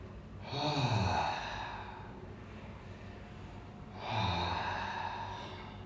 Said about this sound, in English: we are breathing deep in and out through the mouth